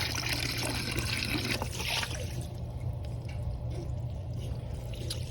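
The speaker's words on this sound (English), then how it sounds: "Just want to make sure you have water flowing whenever we're rinsing these back down." Water runs through a freshly cleaned deck drain, a close steady trickle and pour that surges loudly early on and then settles into a fainter, continuous flow.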